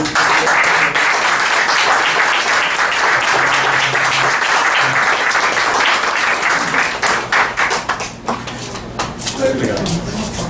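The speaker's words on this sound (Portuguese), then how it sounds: "E peço a salva de palmas" A sustained round of applause from an audience at a Lions Club study session, paying tribute to honorees, steady and full for about ten seconds before thinning toward the end, with voices mixed in.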